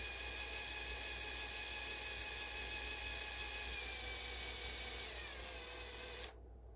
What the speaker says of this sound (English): as you just pull your trigger on your drill,